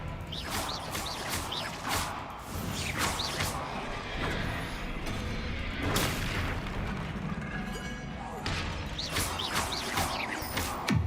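Spell blasts from the Confringo curse in Hogwarts Legacy burst repeatedly amid combat, a loud, dense run of explosive booms and crackling impacts that keep coming without pause.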